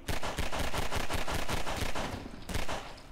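Rapid automatic gunfire from a weapon in the Half-Life 2 video game, a loud, close burst of repeated shots that runs almost continuously, pauses briefly, then resumes.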